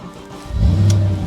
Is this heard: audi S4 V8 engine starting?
yes